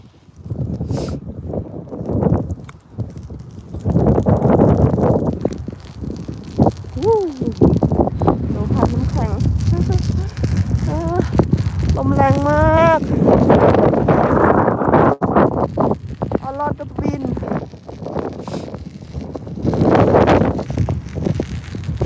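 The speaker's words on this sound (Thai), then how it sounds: "ลมแรงค่ะทุกคน ลมแรงมาก" Strong, cold wind buffets the microphone while cycling outdoors through countryside on the way home, a loud continuous roar with gusts, and someone talks over it.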